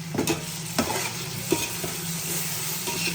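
Ginger garlic paste frying in a pan for chicken biryani, a steady close sizzle with a few sharp scraping stirs of a spoon against the pan.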